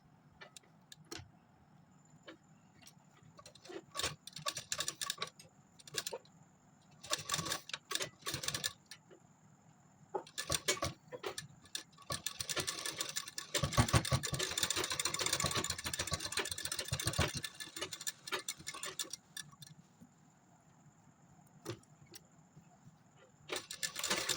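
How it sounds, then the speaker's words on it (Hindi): A sewing machine runs the final stitching on a pair of designer pants made from an old salwar, in repeated short bursts of fast, ticking stitches with one longer run in the middle, close and steady. "अब मैं इसकी फाइनल स्टिचिंग करने जा रही हूँ।"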